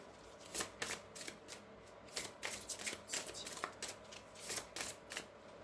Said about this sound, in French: on va prendre l'oracle des amoureux qui n'est pas évident à mélanger. On va bien mélanger.